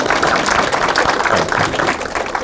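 Sustained applause from a lecture-hall audience, a dense, steady wash of clapping that holds at an even level for the whole stretch.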